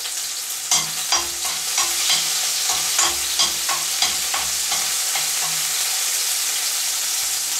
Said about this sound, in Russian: Обжариваем до мягкости, чуть-чуть, 2 минуты.